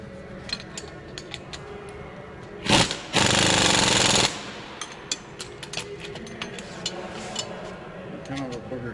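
A hand tool tightens bolts while a Cat 3406 turbocharger is being installed, making sharp metallic clicks and ratcheting ticks. A loud, dense burst of about a second stands out in the middle, and the close clatter is otherwise sparse.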